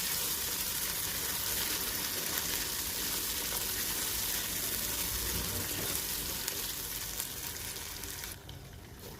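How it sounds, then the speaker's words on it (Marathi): Masala sautéed in a pan, a continuous close sizzle and hiss that fades slightly near the end. "मसाल्याला छान असं परतून घ्यायचं."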